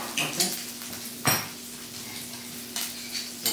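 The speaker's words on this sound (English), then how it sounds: "So now I'm gonna start mixing my remoulade." Corn remoulade with cilantro, salt and black pepper being stirred in a bowl, giving a few close clinks and scrapes of utensil against dish over a quiet kitchen background.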